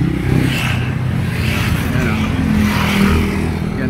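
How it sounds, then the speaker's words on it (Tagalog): Motorcycles and cars pass steadily along a riverside road, engines droning and revving loud and close, with a continuous rumble. "Ang dami mga motor ang kalimitan dumadaan. May mga kotse pa rin pero bihira."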